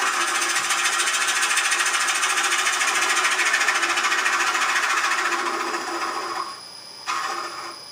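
A wood lathe cuts wet wood, producing a loud, steady, buzzing grind that holds for several seconds, then eases off, briefly drops out and resumes.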